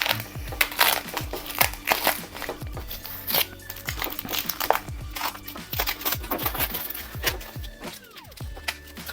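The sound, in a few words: opening packaging of a carbon drone propeller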